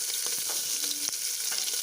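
Chopped onion sautéing in hot oil for pav bhaji, giving a loud, steady sizzle with occasional light scrapes of a spatula close by and no talking.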